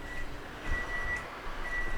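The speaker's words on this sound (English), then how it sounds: "That was my timer." A kitchen timer beeps in short, thin, high repeated tones while green chili chicken stew is being tasted; the beeps are faint and sit over a low room murmur.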